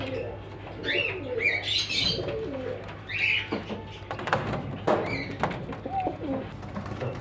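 A pair of Black Sirazi pigeons coos in a bird shop, soft throaty calls recurring close by with faint chirps and background shop noise.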